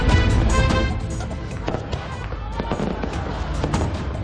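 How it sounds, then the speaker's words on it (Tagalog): Fireworks display over Oroquieta City, Misamis Occidental, bursting in quick succession, loud sharp booms and crackles overlapping with crowd noise throughout. "Nagliwanag ang kalangitan sa makukulay na fireworks sa Oroqueta City sa Misamis Occidental."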